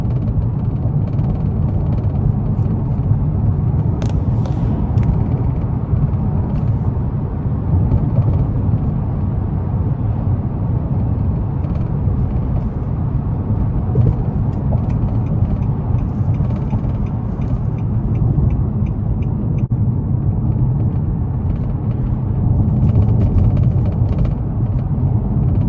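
A 2021 Nissan Maxima SR driving at night on a bumpy back road, heard from inside the cabin as a steady low road rumble with scattered light rattles and clicks throughout.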